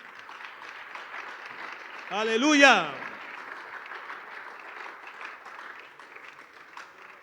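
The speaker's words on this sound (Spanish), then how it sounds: "Denle un aplauso a Dios en esta tarde, hermano." Church congregation applause at an evening Spanish-language service, a broad wash of clapping across the whole stretch, with a voice exclaiming loudly over it midway.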